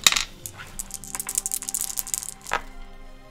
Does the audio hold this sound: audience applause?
no